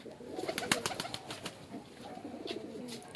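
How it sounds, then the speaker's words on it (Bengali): Soft, low cooing from pigeons and their young repeating close by, with faint flutters and light clicks in the background. "পায়রা অনেক বাচ্চা হয়েছে, অনেক হয়েছে, এখন সব ঠিক আছে।"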